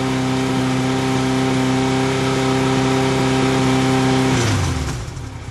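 A steady, loud motorcycle engine drone holds about 4,000 RPM for several seconds, then drops off sharply as the throttle is released.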